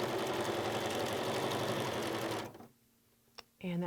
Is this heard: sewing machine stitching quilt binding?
yes